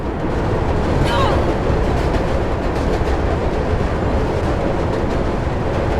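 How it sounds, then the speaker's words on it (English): A speeding train in the video game Mirror's Edge produces a loud, continuous roar of rushing wheels and wind, with a faint metallic screech early on over the dense rumble. "This train is going insanely fast while Faith is just standing there not holding on to anything"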